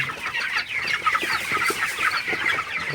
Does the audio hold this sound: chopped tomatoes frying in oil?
no